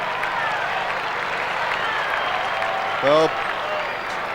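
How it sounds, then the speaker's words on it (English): A football crowd at a North Melbourne versus Essendon match in 1992 gives distant, steady applause, with a commentator speaking over it. "some belated applause there for North Melbourne"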